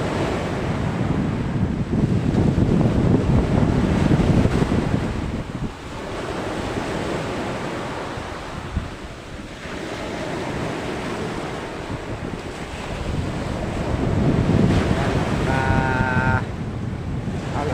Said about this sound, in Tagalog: ah, grabing ingay ng alon.